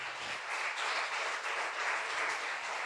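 A church congregation applauds God in a dense, steady wash of clapping that holds evenly for about three seconds, with no voices over it.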